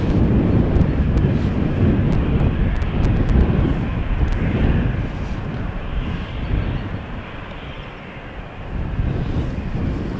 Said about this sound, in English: this is obviously British Airways. It's going to go to London City. This Embraer 190.